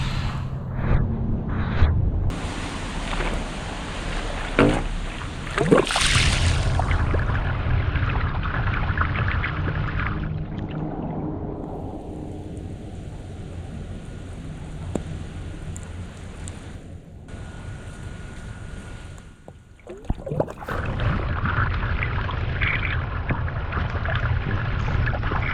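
Sump pump discharging yard drainage water through a float-switched dewatering setup, a steady rushing and splashing outflow that runs loud, eases briefly near the middle and then surges again.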